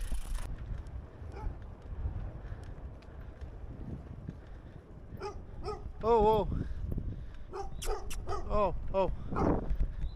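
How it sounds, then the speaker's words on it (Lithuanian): Dogs along a road in Europe, passed by a touring cyclist, give several close yips and barks in a short burst over wind noise, with someone speaking in between. "Ramus šitie šunės."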